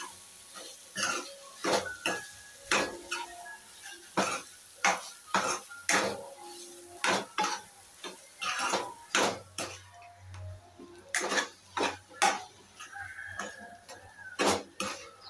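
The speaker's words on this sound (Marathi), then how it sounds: "त्याला छान असं मिक्स करून घ्यायचं." Spoon scraping and clanking against a pan while soya keema is mixed, a string of sharp rhythmic metallic strokes close up, with brief pauses and no talk.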